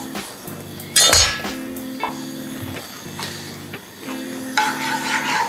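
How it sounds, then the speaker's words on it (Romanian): Sliced garlic sautés in a pan with a soft, steady sizzle, broken by a few sharp clinks and stirring scrapes of a utensil against the pan. "Călim foarte puțin usturoiul."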